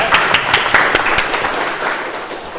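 Audience at an immigration executive order debate breaks into applause, a dense burst of clapping with sharp individual claps standing out near the start, then thinning slightly over a few seconds.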